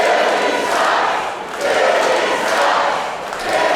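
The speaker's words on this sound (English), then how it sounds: "The crowd here at Velum Fermentation making their feelings known about Billy Dixon." A wrestling crowd at Velum Fermentation roars and shouts during a seven-person ladder match, the loud cheering swelling and dipping in waves throughout.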